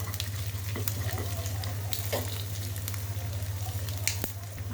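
Spices sizzle steadily in hot oil for a vegetable khichuri, a constant frying hiss with occasional sharper crackles and stirring clicks, close and fairly loud, with a low steady hum underneath.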